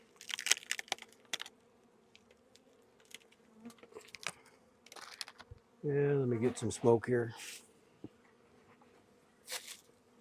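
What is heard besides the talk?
honeybees buzzing in a nuc hive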